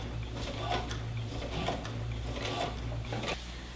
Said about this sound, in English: So I'm going to go ahead and go all the way around with the basting stitch.